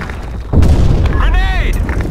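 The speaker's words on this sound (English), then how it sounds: "Fire in the hole." A grenade goes off in the shooter game Blackshot: a sudden loud boom at about half a second, followed by a sustained low rumble with some game effects layered over it.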